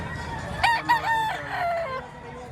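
A Golden Boy and Pumpkin cross rooster crows once nearby, a strained, wavering call that trails off, with faint background noise.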